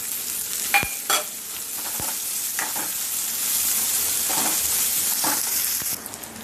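Onion fries in a pan after asafoetida is added, a steady close sizzle with occasional stirring scrapes and clicks of a spoon.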